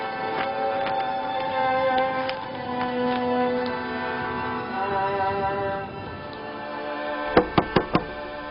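Four quick, loud knocks on a door come near the end of a dramatized scene, following a stretch of soft background music and ambience.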